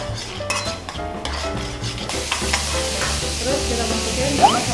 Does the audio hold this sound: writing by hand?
no